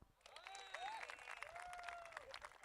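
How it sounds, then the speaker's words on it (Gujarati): Audience applause at an opening ceremony in Surat: a crowd claps steadily for a few seconds with bright, scattered hand claps, while whistle-like tones rise and fall over the top. "આવ્યો હોય તો તાળીઓ પાડો."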